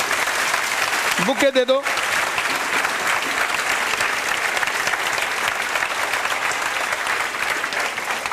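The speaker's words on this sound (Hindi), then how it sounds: "पीछे तक ताली बजाओ जोरदार।" A crowd of students claps loudly and steadily in a hall for a visiting BJP state president; a voice breaks in briefly near the start.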